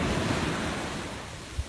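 Sea waves wash onto the beach at Jaywick at sunset in a steady, close rush of surf with wind buffeting the microphone, and a small thump comes near the end.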